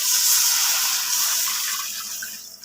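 About 1.5 litres of water is poured into a cooking pot for soup stock: a steady, loud rushing splash that eases slightly toward the end, with no voices.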